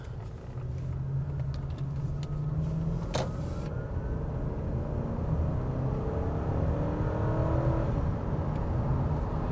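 A Lexus LS 430 Ultra Luxury sedan cruising, heard from inside the cabin as a steady low engine and road rumble with a smooth, constant hum and no talk.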